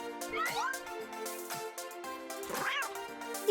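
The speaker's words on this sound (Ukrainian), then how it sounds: "Отже, тобі потрібне кошенятко." A kitten in the Toca Life video game gives two clear, rising meows over a steady tonal music bed, with soft thumps between them.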